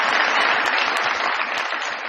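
A studio audience at a comedy talk show gives a guest a warm round of applause, steady and full-bodied clapping that stays loud from start to finish, with no talking over it.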